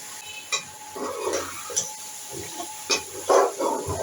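Okra (bhindi) coated in masala frying in a pan: soft, uneven scraping from stirring over a quiet sizzle, with scattered louder clinks and scrapes.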